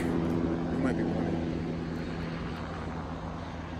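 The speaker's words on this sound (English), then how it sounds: "we just gonna let this helicopter pass" A helicopter passes overhead near a house, a steady broadband engine and rotor roar holding loud throughout and easing only slightly toward the end, with no talking.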